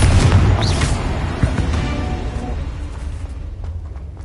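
Magic spell blasts from Bombarda and Confringo in the game Hogwarts Legacy, a loud booming explosion up front followed by rumbling, crackling aftermath that slowly fades over several seconds.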